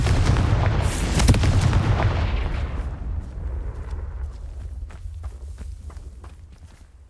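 A Confringo blast spell explodes in the video game Hogwarts Legacy: a loud, booming burst with crackling debris that rumbles and slowly fades over several seconds, footsteps faintly scuffing beneath the tail.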